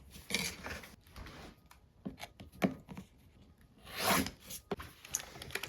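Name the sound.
trimming quilt fabric along the line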